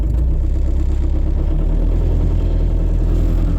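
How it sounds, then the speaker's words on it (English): A Gehl skid steer engine left running at fast idle in cold, snowy weather, a loud, steady, low diesel throb with an even rhythmic chug close by. "I usually just put this thing on fast idle and I'll let it run for a bit."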